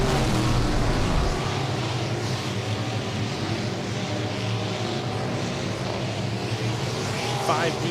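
Dirt late model race cars roar around Humboldt Speedway in a World of Outlaws Late Model Series race, a loud continuous engine drone filling the track, with an announcer talking over it throughout.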